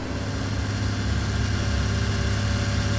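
Lamborghini tractor engine idling in Farming Simulator 19, a steady, loud, low mechanical drone with a constant hum and no talk.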